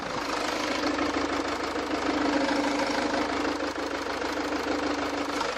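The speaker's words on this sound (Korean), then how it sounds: "이 차량의 엔진 소리 한번 들려드리고" A Jaguar XF 2.2 diesel engine idles steadily up close, a constant low rumble with a faint ticking clatter and no voices.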